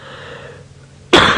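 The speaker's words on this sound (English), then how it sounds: "Excuse my cough." During an evening safari drive, after a quiet stretch with a faint low hum, a single sharp cough bursts out close to the microphone near the end.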